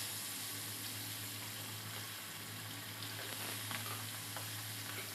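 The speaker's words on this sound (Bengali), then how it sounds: "আর ভোলা মাছগুলো একটু কড়া করে ভাজতে হবে" Bhola fish fry crisply in hot oil in a pan, a dense, steady sizzle close by with stirring sounds throughout and no talking.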